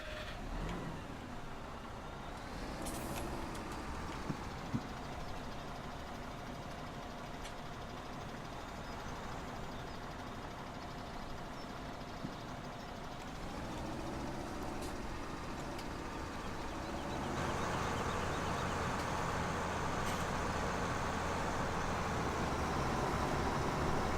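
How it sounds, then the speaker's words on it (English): Tractor engine in Farming Simulator 2017 on an American Outback map, a steady drone that rises and grows louder toward the end as it sets off with a load of grain, with no talk. "To climb into our tractor here, because we're almost ready to take off the first load of grain."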